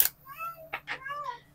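A house cat gives a couple of short meows, close and fairly clear against a quiet room.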